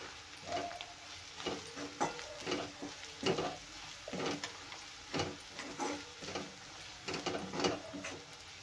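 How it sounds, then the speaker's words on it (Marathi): Spices, turmeric and half a spoon of coriander powder, are stirred into oil in a pan for a dried prawn chutney, giving irregular close scraping and stirring strokes over a soft sizzle, with no talking. "आता हे छान मिक्स करून घेऊया"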